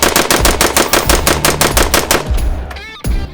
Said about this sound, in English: Let's see how it'll function doing a mag dump.